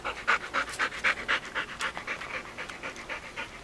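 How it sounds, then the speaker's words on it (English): A dog pants outdoors in quick, regular, breathy bursts, close and clear, with no other sound around it. "Here goes Miley, panting like always, right when she gets outside"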